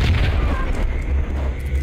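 A deep, booming gunshot from the Max Payne video game, loud and low with a rumbling tail that fills the short moment without any talking.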